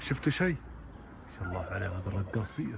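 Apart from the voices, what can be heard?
No everyday noises stand out.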